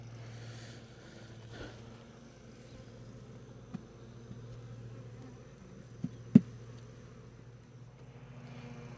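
Honey bees in a hive beneath a floor give a low, steady hum that holds throughout, with a few sharp knocks and taps near the middle.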